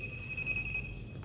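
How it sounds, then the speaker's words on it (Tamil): A non-contact voltage tester gives a steady high-pitched electronic tone while checking a live circuit in an LED smart TV power supply, a sustained beep lasting about a second with a faint low hum beneath. "கண்டக்ஷன் இருந்துச்சுன்னா அதில் அது மாதிரி பீப் சவுண்ட் வரும்."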